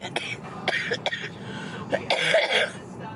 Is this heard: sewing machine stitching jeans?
no